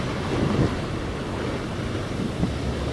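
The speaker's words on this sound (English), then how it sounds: "I'm scared of the wave taking me." Ocean waves wash onto a beach in a steady, loud roar, with heavy wind buffeting the microphone throughout and no voices.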